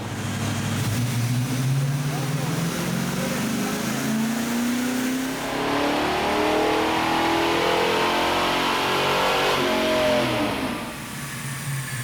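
A 1985 Fox Body Mustang GT with a Holley Street Warrior 600 CFM carburetor, strapped down on a dyno, revs hard through a long rising pull, engine roar climbing loud and close, then easing off near the end.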